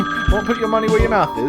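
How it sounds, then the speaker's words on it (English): A telephone rings in the video game Layton's Mystery Journey, a steady electronic trill running under lively talk from people in the scene. "Oh, that's the phone."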